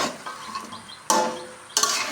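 Large batch of meat braised in a big uncovered wok, with scraping and clattering stirring strokes coming in loud bursts over a low sizzle.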